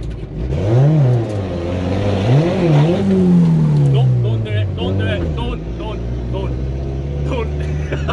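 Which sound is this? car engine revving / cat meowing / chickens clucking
car engine revving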